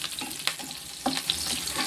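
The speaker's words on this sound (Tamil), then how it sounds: "குடமிளகா வந்து நல்லாவே வதங்கி வந்துருச்சு." Capsicum sautéing in a pan for a paneer masala, a steady close sizzle with soft stirring scrapes and a few brief clinks, no voices.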